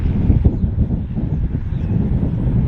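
Strong wind buffets the microphone in continuous low rumbling gusts, loud and close, with no voices, at a shore with kite boarders out on the water.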